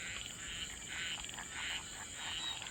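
Frogs croak at night outdoors in a steady, rhythmic pulsing chorus over a constant high insect drone, distant and moderately faint, with no talking.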